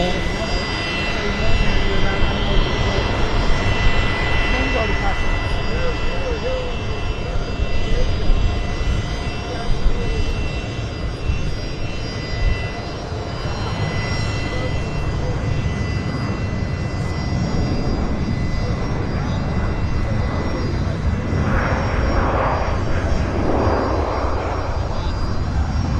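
A WestJet airliner taking off from Vancouver Airport in strong winds, a loud sustained jet engine roar with wind noise, while voices talk over it at points.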